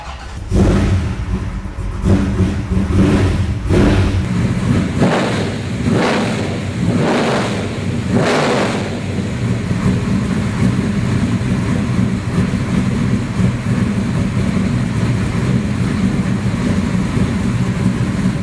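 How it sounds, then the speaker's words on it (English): A 1955 Chevrolet Bel Air pro touring car with a 640 hp, 505 cubic inch engine fires up and barks through a string of sharp revving blips, then settles into a loud, steady, rumbling idle. "So how about I fire it up for you so you can hear what it sounds like."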